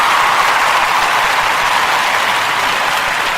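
Loud, dense clapping from a group, a continuous roar of hands with no gaps that sustains at even volume throughout and has no speech over it.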